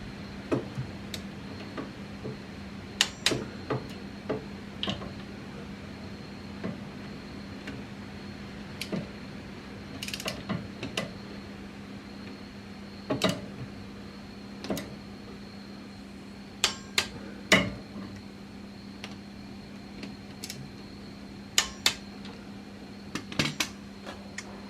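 Ratchet tightening the differential cover bolts on a CJ7 Jeep's Dana 30 front axle, sharp scattered metallic clicks and taps over a steady low hum, close and irregular with no talking.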